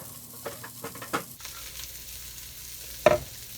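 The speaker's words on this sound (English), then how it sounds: "Right now, we're just kind of like grilling it up over top the stove." Food grilling in a pan on the stove with garlic, green onions, butter and soy sauce, giving soft sizzling with a few scrapes and stirring clatters, one sharper knock near the end.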